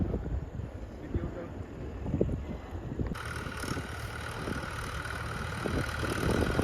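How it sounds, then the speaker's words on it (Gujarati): A tractor engine rumbles low and steadily throughout at a farm field, with wind buffeting the microphone and a brighter hiss joining partway through. "નવા ટ્રેક્ટર ઉપરમાં આવ્યું"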